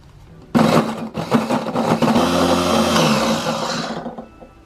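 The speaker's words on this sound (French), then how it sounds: "je vais utiliser juste un petit robot hachoir, pas besoin d'un méga blender et je vais y verser mes dattes égouttées" A small electric food chopper whirs as it chops drained dates, a loud steady motor buzz starting abruptly and running for several seconds before cutting off.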